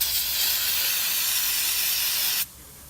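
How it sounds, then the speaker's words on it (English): Brake cleaner sprays in a steady, loud aerosol hiss onto the fuel filter cartridge of an Isuzu NPR truck, running continuously for over two seconds before cutting off abruptly, with no talking. "Just clean out the cartridge. A bit of degreaser or a brake cleaner."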